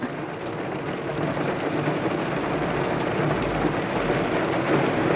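Heavy rain with gusting wind pours down in a steady, dense wash of noise, loud and continuous with a low rumbling swell near the end, while workers wait outside a large factory.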